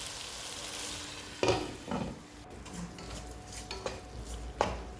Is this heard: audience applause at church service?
no